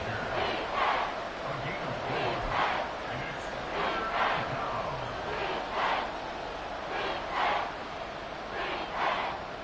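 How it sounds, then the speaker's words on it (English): A stadium crowd in Madden NFL 24 roars steadily as a game crowd rises to its feet, the broad cheering swelling in repeated waves under a play-by-play commentator's voice. "Crowd on their feet."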